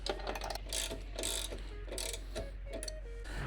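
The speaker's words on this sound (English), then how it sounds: "Let's get the other one tightened down as well." Ratcheting clicks from tightening bolts on a CYKE Oxen hitch bike rack, a quick run of close mechanical ticks repeating in short bursts with brief pauses between strokes.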